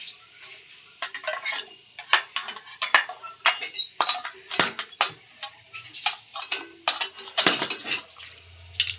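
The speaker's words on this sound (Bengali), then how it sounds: "এবার এই ঢাকনাটা সরাবো" A metal lid comes off a cooking pot of steamed hilsa fish. A close series of light metallic clinks, taps and clatters is scattered irregularly over several seconds, and no voices are heard.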